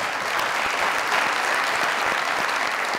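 Steady applause from an audience at a live stage performance, dense and sustained clapping filling the room at constant loudness with no voices standing out.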